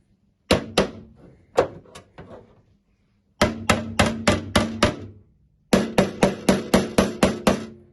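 A hammer taps on Toyota Starlet bodywork in sharp metallic knocks: two pairs of spaced taps, then a quick run of about seven and another of about eight, close and loud with short pauses between groups.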